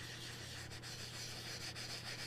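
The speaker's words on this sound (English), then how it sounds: "So obviously I'm sanding the whole thing" Steady abrasive rubbing of sanding on a car bumper, continuous and close, with a low constant hum underneath.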